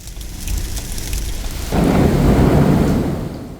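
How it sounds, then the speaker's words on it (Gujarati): A pre-monsoon thunderstorm rumbles nearby, then heavy rain sweeps in and pours steadily and loudly over surfaces, with rolling thunder underneath the downpour. "વીજળીના કડાકા"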